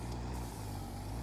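A tractor-like vehicle in the game Factorio drives along with a steady low engine rumble and droning hum, continuous and even throughout.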